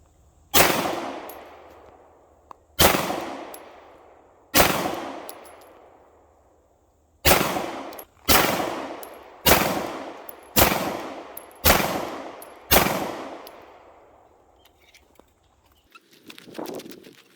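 Shotgun blasts fired one at a time from a Benelli SBE 3, eight loud booms with long ringing decay at an irregular, unhurried rhythm, alone with no talk.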